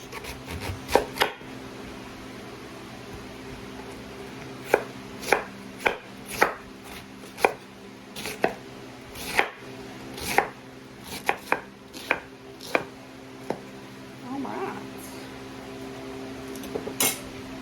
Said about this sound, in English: Let's cut this cabbage up.